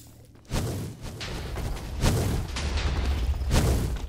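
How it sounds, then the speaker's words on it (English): Big booming blasts in Minecraft RogueCraft during a boss fight, three loud explosions roughly every second and a half with rumbling noise between them. "That's big explosion time."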